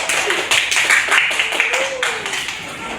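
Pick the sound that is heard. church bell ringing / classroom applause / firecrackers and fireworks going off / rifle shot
classroom applause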